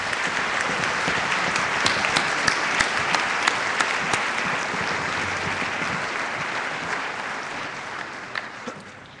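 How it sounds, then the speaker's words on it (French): A graduation ceremony audience applauds steadily, a broad wash of many hands clapping at moderate level that slowly thins toward the end. "on pourrait certainement les applaudir à ce stade-ci"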